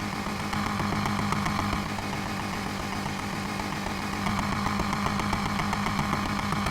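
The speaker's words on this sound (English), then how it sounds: "revving your engine up." Car engine revving at a drag race start line in NFS Heat, a continuous rough, buzzing engine drone held at high revs with slight fluctuations, loud and steady.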